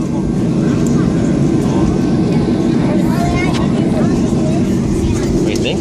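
Airliner cabin just after landing at SeaTac airport, a loud steady low engine and rolling rumble under a person's voice throughout.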